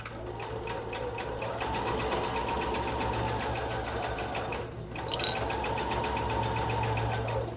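A close sewing machine hums and rattles steadily while stitching around the curve of a Christmas stocking, with a brief pause midway before it resumes at the same even pace.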